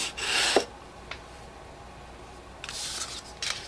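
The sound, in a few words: burnishing score lines on folded cardstock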